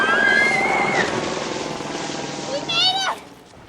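A helicopter flies over a rented house with a pool in Benedict Canyon, Hollywood, a loud steady drone and rotor wash that eases slightly midway, then swells briefly before fading near the end.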